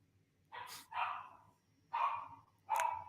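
A small dog yips and barks four times in a quiet room, each bark sharp and close, spaced unevenly over a few seconds with no voices.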